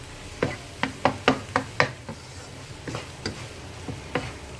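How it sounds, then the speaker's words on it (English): Fried idiyappam (puttu mayam) is mixed in a pan, producing a series of distinct scraping knocks in an uneven rhythm over a faint sizzle. There is no talking. "give it a good mix"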